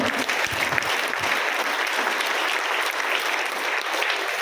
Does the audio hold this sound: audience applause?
yes